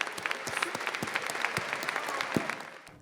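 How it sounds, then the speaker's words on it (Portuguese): Audience applause in a parliament chamber honouring a deputy, a dense steady patter of many hands clapping at moderate level, continuing evenly for a few seconds before easing slightly. "Uma salva de palmas para o nosso querido amigo,"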